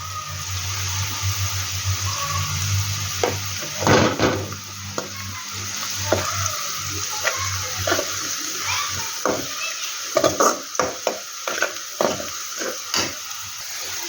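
Mint and turmeric frying in a pan for an egg gravy curry, a steady low sizzle with scattered stirring scrapes and taps from a utensil, and a voice speaking briefly over it.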